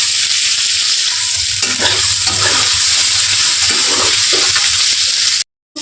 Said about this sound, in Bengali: আর আলুগুলো আমি এখন দিয়ে দিয়েছি, দিয়ে আলুগুলো কষতে থাকবো।